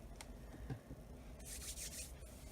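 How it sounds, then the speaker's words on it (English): A cloth wipes nail polish remover across a Speedball printing plate in a faint, close rubbing, with a short burst of harder scrubbing strokes near the end. "the best way to clean the speedball plate is with nail polish remover"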